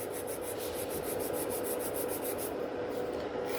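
Steady rasping of a nail file worked over a sculpted fiber gel nail, continuous close strokes with a rhythmic pulsing texture throughout, no voices.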